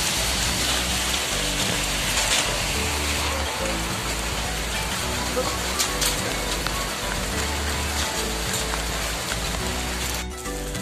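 Heavy rain pours down in a village setting, a loud, dense, continuous hiss of drops hitting surfaces with occasional sharper splats, steady throughout.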